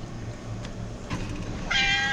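One of several cats being fed outdoors gives a single clear meow near the end, after a stretch of low background rumble and faint rustling.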